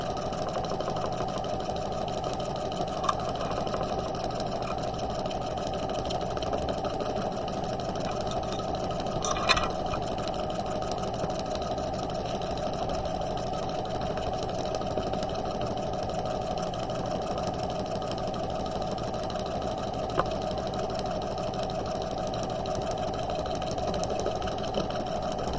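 A sewing machine runs steadily while stitching the underarm seam of a quarter-zip jacket, a continuous even mechanical whir with faint occasional clicks.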